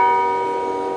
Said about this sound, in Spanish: Vine a conocer el campanario de San Cristóbal. Aquí están las campanas.